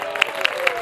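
Short burst of congregational applause at a 2019 church Christmas carol service, a dense wash of clapping with a few sharper peaks standing out.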